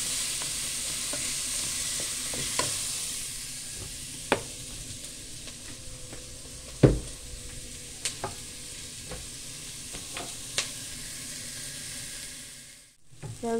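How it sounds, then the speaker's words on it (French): Carrot, zucchini, celery, turnip and other vegetables sauté in a soup pot with a soft, steady sizzle, broken by occasional sharp spoon taps and scrapes against the pot. "On fait revenir pour que ça sente vraiment bon dans la soupe"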